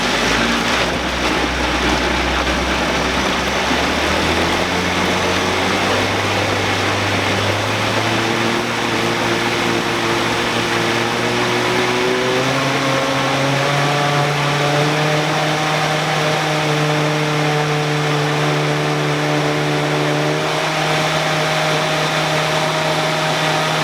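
Blender mixing a green smoothie of blueberries, broccoli and spinach: a steady loud motor whir that climbs in pitch as speed is raised, running continuously with no talk.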